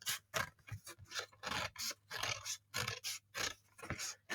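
Scissors snip steadily around a paper plate in a spiral, cutting a long strip: about ten close, crisp crunching strokes in an even rhythm, with a low background hum underneath and no talk.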